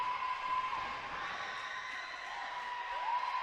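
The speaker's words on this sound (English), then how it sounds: "Listen to this crowd." Wrestling crowd cheering at a tag-team match, a sustained, distant roar of voices filling the arena with faint whoops and no single sound standing out.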